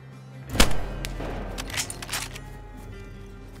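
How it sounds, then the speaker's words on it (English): Gunfire in the survival video game DayZ on Deer Isle: a sharp report near the start, then a couple of fainter, more distant shots over steady background ambience, with another thump at the end. "And another gunshot just came from there"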